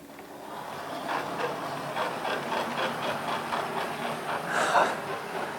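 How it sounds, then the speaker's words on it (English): Santa's Express model railway train running slowly on a layout, a steady low hum with soft rhythmic clicks and rattles close by, no talking. "Just before I start the ballasting, let's have a little bit of train running, shall we? Here comes Santa's Express."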